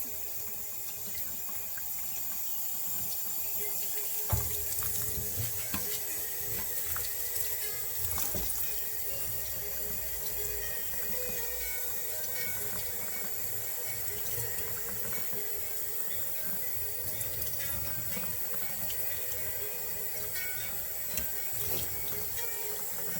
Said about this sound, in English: Rinsing off all the starch off the rice.